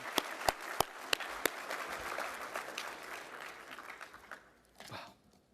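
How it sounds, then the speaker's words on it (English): An audience gives the 82nd Airborne All-American Chorus a round of applause at a luncheon, a fairly soft, even patter of clapping punctuated by a few sharp close claps, fading out near the end. "Let's give the 82nd Airborne All-American Chorus another big round of applause."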